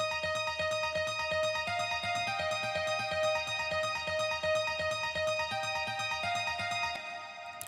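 Nexus nylon-string guitar patch plays a gentle melodic-house arpeggio drenched in reverb, with a soft rhythmic pulse underneath; steady, moderately quiet, no voices.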